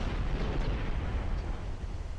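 Continuous deep rumbling roar of torpedo explosions in the naval game Ultimate Admiral Dreadnoughts, a heavy low boom sustained throughout without clear breaks.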